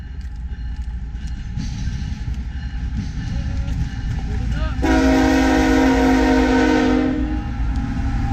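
A rumbling train rolls by nearby at Parkhurst near Whistler, BC, then blasts a loud, sustained horn for about two seconds before it cuts off.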